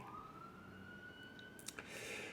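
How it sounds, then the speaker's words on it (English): A siren wails outdoors in the distance, a steady rising tone that stays faint and far off behind a low background hum, with a few small clicks near the end. "that beautiful sound of the siren behind me"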